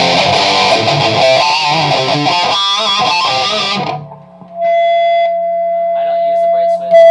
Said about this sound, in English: the bright switch with distortion on this channel is crazy